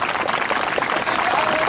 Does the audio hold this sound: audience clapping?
yes